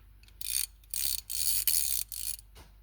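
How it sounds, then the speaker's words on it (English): A Blue Point ratchet wrench clicks in several short bursts of fast, crisp ratcheting, heard close up with brief pauses between the strokes. "So it ratchets both ways because it's in the center"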